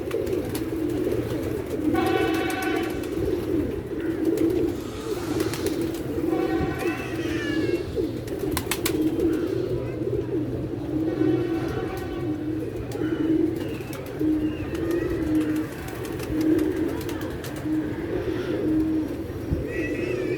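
Pigeons are taken out of their enclosure on a sunny day after bad weather. Repeated soft cooing and bird calls come close by over a steady outdoor background.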